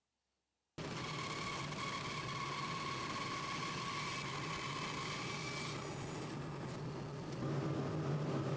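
Bandsaw slicing through a book-matched maple board, a steady, dense whine with a constant hum starting abruptly after a short silence and running evenly throughout, close and loud with no talking.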